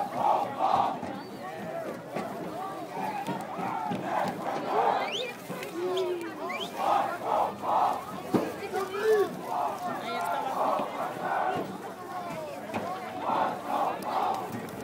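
A crowd shouts a rhythmic battle cry in repeated bursts, voices chanting together from a moderate distance with scattered yells.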